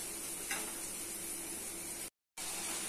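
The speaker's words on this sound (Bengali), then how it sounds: "মশলা ভালো করে কষে নিতে হবে।" Spice masala sizzles and is stirred in a hot pan with dried prawns, a constant close frying hiss with a faint scrape, briefly cut off near the end.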